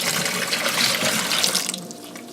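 Corn sugar and water mix poured into a secondary fermenter for homebrewed beer, a close, steady liquid splash and rush that tapers off near the end.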